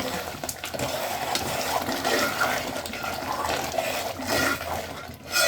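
Palak paneer gravy bubbles in a pan with a soft, continuous gurgling and popping, heard up close and fairly quiet, with no talk over it.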